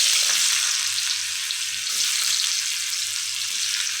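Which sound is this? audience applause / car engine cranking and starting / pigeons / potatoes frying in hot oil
potatoes frying in hot oil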